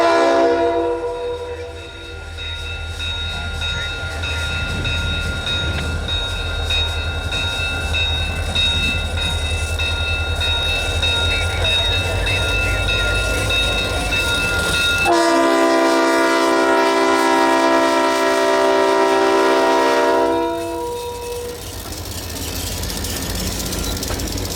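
A train horn sounds in long sustained blasts over the heavy rumble of New England Central diesel locomotives running light past close by in western Vermont, the horn tone shifting partway through.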